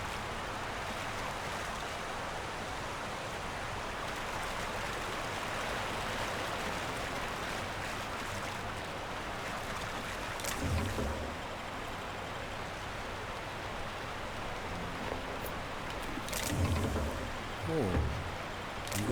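Swimming through water in the video game The Outer Worlds, a steady rushing, splashing wash that continues evenly, with a few louder surges near the end.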